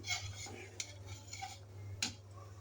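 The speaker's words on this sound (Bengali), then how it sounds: "আমি একটু নেড়ে চেড়ে দিচ্ছি" Rice and lentil khichuri made with atap rice is stirred in a pot, a few soft scraping strokes and light metallic taps against the rim, faint and close over a low steady hum.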